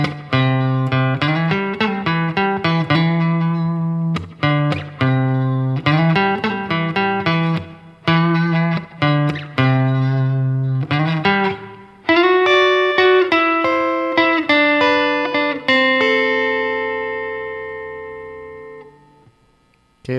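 An electric guitar plays the first part of a song's chorus, loud strummed chord stabs in a bouncy rhythm with short gaps, ending on a long ringing chord that fades out.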